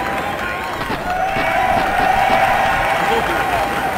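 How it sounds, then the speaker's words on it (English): A video-game crowd in a PlayStation prototype of Tony Hawk's Pro Skater gives a loud, steady roar of cheering at a skate park, joined partway through by a sustained tone. "The crowd goes wild for a bunch of little ollies."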